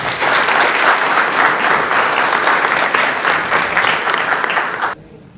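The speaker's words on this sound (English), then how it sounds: "please help me to welcome with a big round of applause to Akhil" A large audience at an evening talk on equity markets and wealth creation breaks into loud, sustained applause welcoming a guest speaker, with steady dense clapping that cuts off abruptly near the end.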